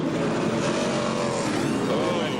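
NASCAR Winston Cup race car at Atlanta Motor Speedway, Bobby Labonte's smoking number 18 car, engine held at high RPM, a loud continuous roar with shifting pitch as it runs past, heard alone.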